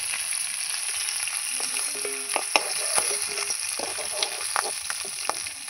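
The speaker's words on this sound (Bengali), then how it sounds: "আমি মাছগুলো ভাজছি" Shing fish (stinging catfish) frying in oil in a pan, a continuous hissing sizzle close by with scattered pops, crackles and clinks of utensils, no voices.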